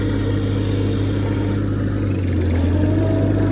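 An IH 154 Cub Lo Boy tractor engine runs steadily while plowing snow, a loud, close, continuous low drone with a faint dip partway through and no talking.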